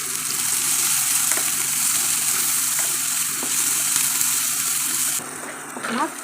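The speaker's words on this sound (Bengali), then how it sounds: "এখন আমি তেলের মধ্যে দিয়ে দেবো পেঁয়াজ কুচি আর কাঁচা লঙ্কা কুচানো।" Chopped onion and green chilli frying in hot oil, a steady close sizzle with faint stirring clicks, used for a flattened rice pulao; the frying noise softens near the end.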